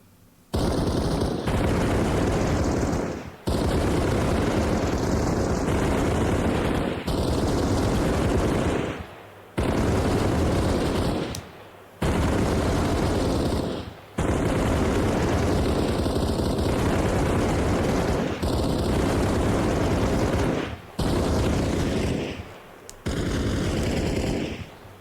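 A squad of soldiers fires rifles together on a firing range in Arma Reforger, producing dense, continuous volleys of gunfire broken by short, synchronized pauses as everyone reloads at about the same time.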